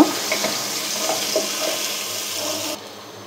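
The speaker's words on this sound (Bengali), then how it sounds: "আমি এখন এই একই তেলে দিয়ে দিচ্ছি পেঁয়াজ কুচি। এটা একটু ব্রাউন কালার হওয়া পর্যন্ত আমি একটু ভেজে নেব।" Chopped onion frying in hot oil for an arum dish, a continuous close sizzle with faint stirring taps that drops quieter toward the end.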